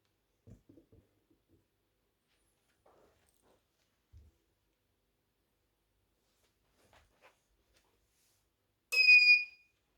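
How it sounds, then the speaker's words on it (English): A single short electronic beep sounds near the end as a ZOSI NVR powers on after near silence, preceded by a few faint soft knocks. "There is a beep."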